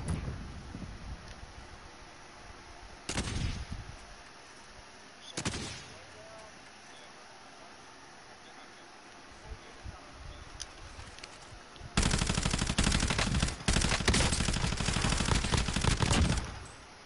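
Gunfire in Call of Duty Warzone, with two isolated loud shots early, then scattered quieter distant shots, before a sustained burst of rapid automatic fire in the last few seconds.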